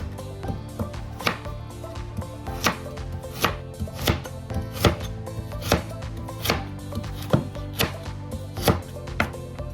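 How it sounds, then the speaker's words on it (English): Carrots sliced with a knife on a cutting board for a lamb stew, making a steady series of crisp, close chopping taps at an even rhythm, with no talking. "And then the slicing of the carrot."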